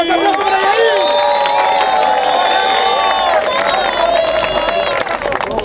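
A large crowd at an international beatbox final cheers and shouts continuously, with a loud, dense roar of voices and some clapping mixed in throughout.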